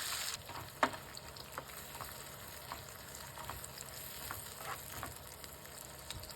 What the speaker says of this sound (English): Add 1/4 cup mild green chilies cut into slices. Sauté for 1 minute